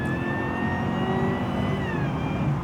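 A supercharged V8 in a Cadillac CTS-V sedan, the same engine as a ZL1 Camaro, holds a steady, throaty roar with a high whine riding on top and a slight pitch rise before easing, heard alone.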